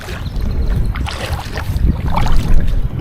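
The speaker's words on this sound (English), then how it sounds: "in the distance you can actually hear these rapids" River rapids at MacGregor Point Provincial Park make a steady, broad rushing roar in the distance, mixed with wind buffeting the microphone while the listener travels toward them.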